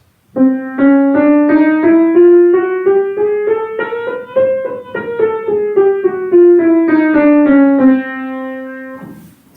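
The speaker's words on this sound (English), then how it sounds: "It means we're playing all 12 notes in the Western music system." A chromatic scale of all 12 notes steps upward one by one in an even rhythm, then descends back down, played on a sustained melodic instrument, clear and close.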